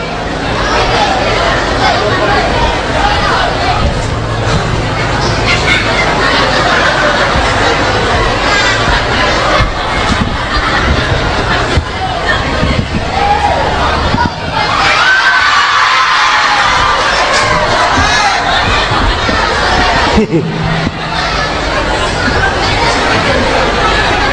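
Lively crowd of children at a comedy show cheering, whooping and chattering loudly for Jamal Mirdad, a dense continuous roar of shouts and excited voices lasting throughout.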